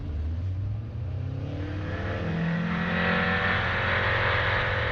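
Engine of a Sling 2 light aircraft during the takeoff roll, a droning propeller note that rises steadily in pitch and loudness as it accelerates.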